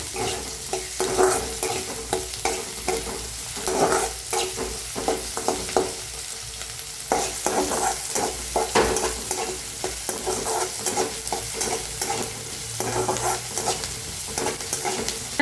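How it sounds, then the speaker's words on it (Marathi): Onion with crushed garlic and green chili being stirred and roasted in a pan, a steady quiet sizzle broken by repeated scraping strokes of the spoon throughout. "हलवून भाजून घ्यायचा आपण कांद्याला"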